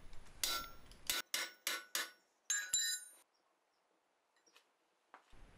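A blacksmith's hammer strikes a hot steel bar to sever a candlestick, giving about six sharp ringing blows in quick succession, then quiet with a faint knock near the end.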